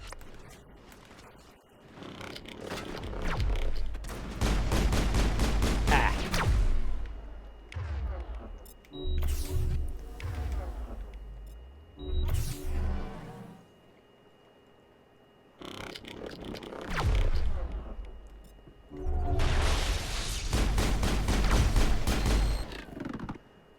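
Gunfire crossfire in the video game Mass Effect, with dense bursts of rapid shots in several loud waves separated by short lulls, mixed with mechanical clanks and beeps.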